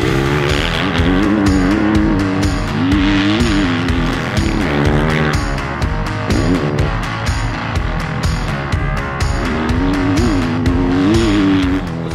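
A 2020 KTM 350 SX-F four-stroke dirt bike is ridden hard, its engine revving up and down through gear changes in a loud, continuous snarl without talk.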